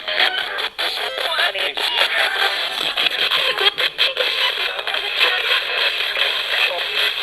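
A ghost box radio pours out white noise static, a constant loud hiss broken by crackling, choppy bursts, with no clear talk over it.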